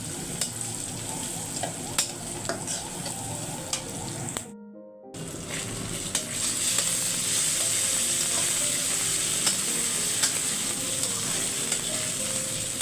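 Curry being stirred in a frying pan while ginger, garlic and ground spices fry in it, giving a steady close sizzle with scraping stir strokes throughout, broken by a brief gap.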